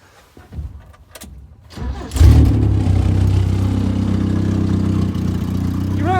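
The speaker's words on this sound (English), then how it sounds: "Let's crank it back up again." A Toyota Wolverine's starter cranks in a few short bursts before the engine catches with a loud roar, then settles into a steady, slightly uneven idle close by.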